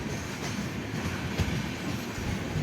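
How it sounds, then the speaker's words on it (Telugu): Godavari Express rolls on after leaving Warangal at night, a steady close rumble of wheels and carriage noise with faint rail clatter throughout. "ఇది వరంగల్ నుంచి కూడా ట్రైన్ అయితే స్టార్ట్ అయిపోయింది"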